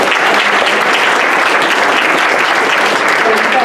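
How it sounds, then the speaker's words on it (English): Sustained, loud audience applause fills the room throughout, a dense even clapping from a crowd at a teaching and learning with technology event. "one more round of applause for Chris and Leah."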